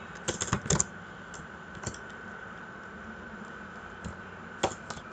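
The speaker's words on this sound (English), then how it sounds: "So here you can type git conf user.name" A computer keyboard is typed on in short bursts of quick, sharp clicks, with a cluster at the start and scattered keystrokes later over a faint steady hum.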